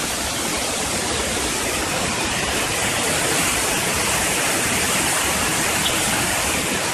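Waterfall in the Smoky Mountains, a loud, dense, continuous roar of falling water heard close up, steady throughout with no voices.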